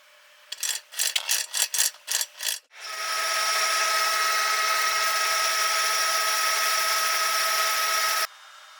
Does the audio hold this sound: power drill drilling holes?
yes